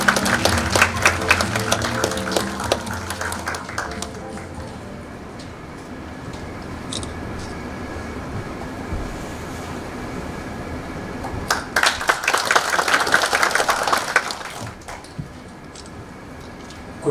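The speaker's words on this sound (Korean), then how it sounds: "큰 박수와 함께 대사님 드립니다." Applause from an audience welcoming an ambassador at a formal Korea–ASEAN event, a crowd clapping in a swelling burst that fades into quieter room noise, then rising again in a second loud wave before tapering off.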